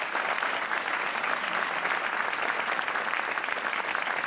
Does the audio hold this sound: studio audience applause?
yes